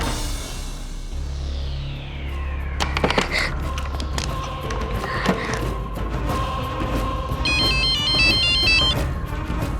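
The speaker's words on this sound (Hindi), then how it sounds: "जलाल! फोन उठा लीजिए।" A phone's electronic ringtone chimes in a repeating warbling pattern near the end, over a busy, noisy indoor background.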